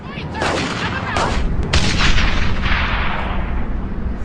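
Gunfire and artillery in the World War II shooter game Brothers in Arms: Hell's Highway, loud overlapping rifle shots and heavy booms rolling into a dense, continuous battle roar.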